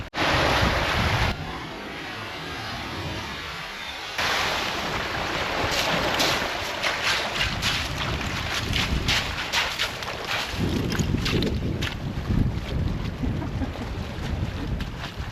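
Strong wind buffets the microphone on a beach while waves surge and wash ashore, a loud continuous roar with gusty swells and no speech.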